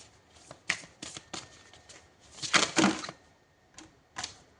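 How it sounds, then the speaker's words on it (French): Tarot cards shuffled and drawn during a horoscope reading, a series of close, crisp riffling and flicking bursts separated by short quiet gaps, with no talking. "On va prendre une dernière carte,"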